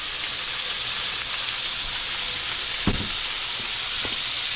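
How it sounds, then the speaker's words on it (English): Potatoes frying in a pan for a one-pan chicken scarpariello dinner give a steady, close, loud sizzling hiss throughout, with a couple of brief soft knocks and no talking. "Cooking some potatoes to go with this Scarpariello"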